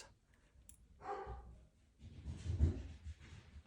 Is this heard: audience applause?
no